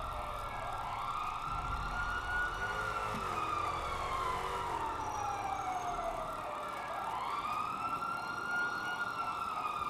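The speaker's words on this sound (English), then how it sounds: "Why are the sirens so loud?" Loud wailing sirens in a video game, GTA roleplay, rise and fall continuously, several overlapping tones sweeping up and down close by, with no talking.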